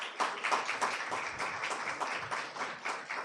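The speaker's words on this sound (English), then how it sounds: "So I'd like you to give a big applause to the opening panel." Audience applause for an opening panel at a reproductive justice litigation forum, a steady patter of many hands clapping at moderate level, fairly quiet and continuous throughout.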